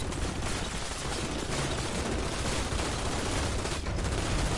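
Dense, continuous gunfire in the video game Outstriders, a loud unbroken barrage of rapid shots filling the whole stretch with no pause.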